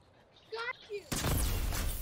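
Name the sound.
gun firing in video game Fortnite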